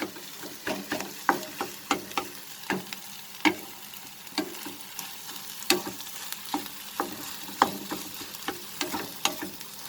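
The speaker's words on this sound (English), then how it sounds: "Like this we will just scramble it." Tomato egg bhurji being scrambled in a pan with black pepper, the spatula ticking and scraping against the metal in a steady rhythm over a soft, constant sizzle, close and clear with no talking.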